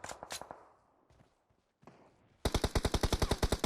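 Bursts of automatic gunfire in the mobile game PUBG Mobile, a short rattling volley, then faint scattered shots, then a loud rapid string of evenly spaced shots ending the clip.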